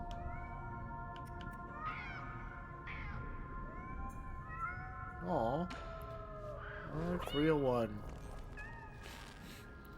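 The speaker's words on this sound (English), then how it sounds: "Oh my god, look at the cats!" Cats meowing in the video game Nine Sols: several rising and falling meows, the loudest two near the end, over steady game music, with a person speaking briefly.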